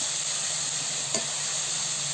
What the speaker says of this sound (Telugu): కొంచెము గోల్డెన్ కలర్ వచ్చేంత వరకు